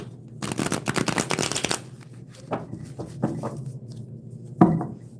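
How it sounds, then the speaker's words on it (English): Rapid riffling of a tarot card shuffle for about two seconds, followed by a few softer taps and slides of cards being squared, close and quiet. "Let me shuffle them."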